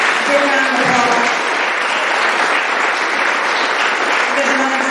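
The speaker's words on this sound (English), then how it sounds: "So let's give Jon a big round of applause." Applause at an Indiana heritage fellowship award ceremony, a steady clapping crowd with voices and faint tones mixed in, holding even for about five seconds.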